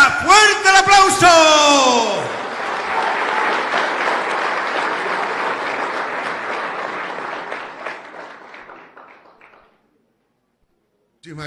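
Large audience in Tarija, Bolivia applauding President Luis Arce at a public ceremony, loud sustained clapping that starts under an announcer's amplified voice, then gradually fades to silence before a voice returns.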